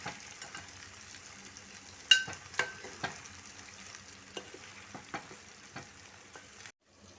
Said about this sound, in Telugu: ఆయిల్లో మంచిగా డీప్ ఫ్రై చేసుకుంటే మంచిగా ఉంటాయి